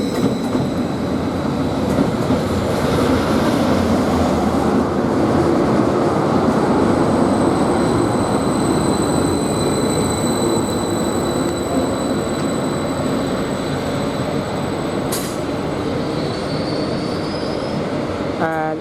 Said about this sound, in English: Now we've got a Greater Anglia service, which is the 12:25 service from Cambridge towards Ipswich.